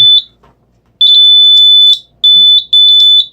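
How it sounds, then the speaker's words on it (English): A loud, piercing alarm buzzer in a continuity test box beeps in bursts: a short chirp, a pause, then a long tone and two more sustained beeps close by. "this unit is an alarm buzzer, and I wanted something that was loud"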